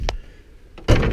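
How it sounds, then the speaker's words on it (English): An exterior door is pulled shut, giving a light handle click followed by a single firm thud with a short rattle, close and alone. "I'll shut this door behind me."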